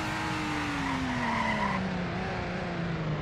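A BMW X3 in a driving game brakes hard and skids into snow, a loud tire squeal over a falling engine drone that gradually winds down.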